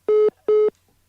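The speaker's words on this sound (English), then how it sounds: "we will try and re-establish contact with Samuel Akom" Telephone line tones from a failed phone connection during a live news broadcast: two short, steady, identical beeps, loud and clear, separated by a brief gap.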